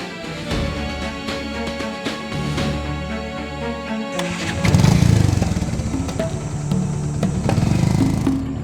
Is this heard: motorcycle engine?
yes